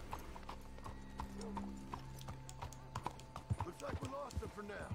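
Horses in the Red Dead video game, hooves clip-clopping in an uneven rhythm with a neigh, nearby and moderately loud, under people talking and background game sounds.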